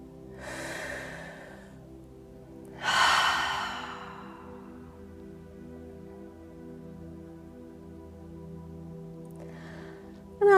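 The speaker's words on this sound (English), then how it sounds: "I invite you now to take a nice deep breath." During a guided healing meditation session, a person takes deep, audible breaths near the microphone: a long inhale, then a heavier exhale-like sigh, followed by quiet with a soft hum underneath.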